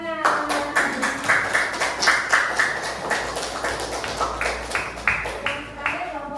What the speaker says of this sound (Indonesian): kita tepuk tangan